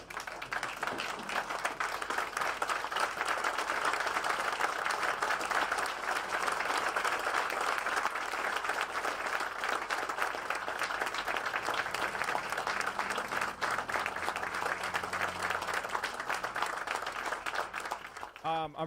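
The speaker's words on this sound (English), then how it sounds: "I'm going to ask that everyone stand up and clap for you." A standing audience at a courthouse groundbreaking ceremony applauds in a long, dense, sustained wave of clapping that holds steady before a voice cuts in at the very end.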